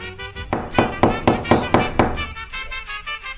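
A series of sharp hammer strikes, about eight evenly spaced blows ringing out close and loud against a low background hum.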